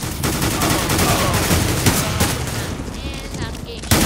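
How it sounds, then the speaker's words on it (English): Rapid gunfire in the video game Counter-Strike: Global Offensive, dense bursts and volleys crackling continuously and loudly, with a louder shot near the end. "And I'm getting shot."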